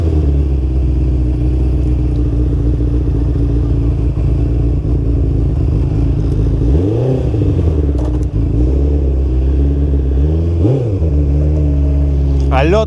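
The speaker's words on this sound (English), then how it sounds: "A lot of traffic here in Villa Ballester" Dense street traffic in Villa Ballester, Argentina, with a steady low engine rumble from passing cars and a couple of vehicles sweeping by up close around the middle, loud and continuous.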